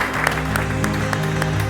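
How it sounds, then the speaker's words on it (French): A crowd applauds the French team at the 2024 ISDE enduro in Spain, with a dense, steady patter of many hands over a low humming, tonal background. "je vous applaudis pour la semaine qui a été faite"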